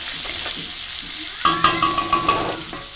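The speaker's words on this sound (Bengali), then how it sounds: "টমেটো দিয়ে সুন্দর করে আরও একটু নেড়ে নেব।" Onions and tomatoes fry in a pan under a steady sizzle, and a spatula stirs in a run of about six rhythmic scraping strokes that stand out sharply over the hiss.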